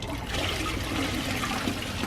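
Murky, dirty water mixed with sand is poured out of an aquarium tank, making a steady, close gushing and splashing for about two seconds with no voices.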